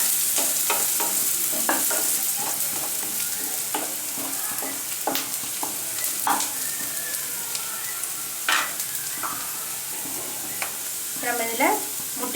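Onions and a sprig of curry leaves sautéing toward golden brown in a pan for egg podimas, a steady sizzle broken by repeated scraping stir strokes, close and alone with no talk.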